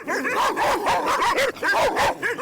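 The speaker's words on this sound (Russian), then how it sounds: "В итоге стаи диких псов держат в страхе города и села" A pack of stray dogs barks loudly and continuously in overlapping, rapid bursts, close by and with no pauses between the yelps.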